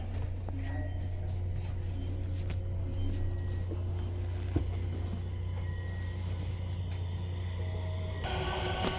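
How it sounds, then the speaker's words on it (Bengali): Train pulling out of Malmö Hyllie station in Sweden, heard from inside the carriage: a steady low rumble and hum runs throughout with faint clanks, and the sound brightens and shifts near the end as the train moves off. "এই যে ট্রেনটি ছেড়ে দিছে।"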